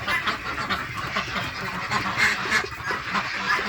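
Yi-Liang ducks quacking in a busy flock, overlapping calls continuing steadily throughout, fairly close and moderately loud.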